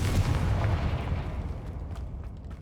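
A Confringo blasting spell goes off in Hogwarts Legacy, a loud booming burst right at the start that rumbles and decays over a couple of seconds.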